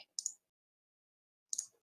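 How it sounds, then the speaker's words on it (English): Two short bursts of keystroke clicks on a computer keyboard, separated by about a second of silence and faint and close in a quiet room. "I'm hearing typing sounds."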